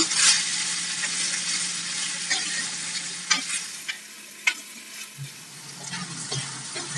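Onion and tomato frying in oil in a pan for a traditional brinjal kootu, a steady sizzle with stirring scrapes and clinks throughout, close and fairly loud, no voices.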